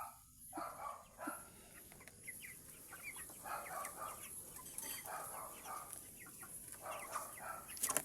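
Pet chickens clucking softly and continuously at a distance, with a dog barking faintly in the background of a quiet outdoor scene.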